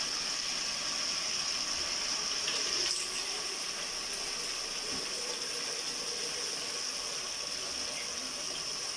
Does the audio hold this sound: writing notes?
no